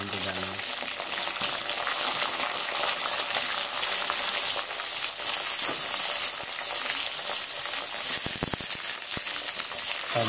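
Continuous loud frying sizzle fills the clip, a dense hiss of eggplant frying in hot oil with occasional light clicks and scrapes.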